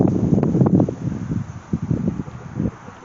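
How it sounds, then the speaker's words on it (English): Gusty outdoor wind buffets the microphone in uneven low rumbling bursts while someone works on cleaning aluminum alloy wheels, loud at first and easing toward the end. "Wind is not my friend."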